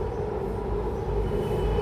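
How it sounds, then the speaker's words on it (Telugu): Deep continuous rumble of a train close by, steady and loud with a low droning hum and no distinct horn. "ఒక ట్రైన్ అయితే వచ్చేసింది వావ్"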